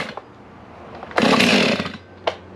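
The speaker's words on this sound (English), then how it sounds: "And that's the way to start a steel chainsaw." Stihl chainsaw being pull-started on full choke: a brief engine catch bursts loudly for about a second after a faint pull, then a short second pop follows alone.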